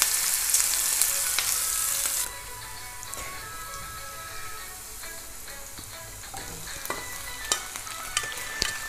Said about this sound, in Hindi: आप इसको हल्का हल्का सा भून लें, गोल्डन थोड़ा सा हो जाए